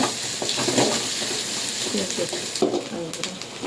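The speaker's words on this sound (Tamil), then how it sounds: "நல்லா பொன்னிறமாக வர வரைக்கும் நல்லா கிளறி விடுங்க" Food frying and being stirred in a pan until golden: a loud, close sizzle with quick scraping stirs and light clinks of utensil on the pan, a voice talking briefly over it.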